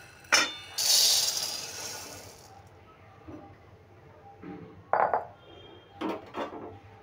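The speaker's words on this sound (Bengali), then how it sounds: "এবার সাবুদানাগুলো কড়াইতে ঢেলে দেবো।" Sago pearls poured into a wok, a bright rattling rush of tiny beads hitting metal, followed by a few separate clinks and scrapes of stirring, close up and with no voices.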